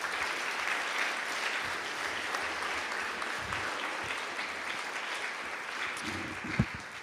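A school awards assembly audience for grades 4 to 8 applauding alumni, a steady, dense crowd of clapping that fills the room, with a few louder claps near the end.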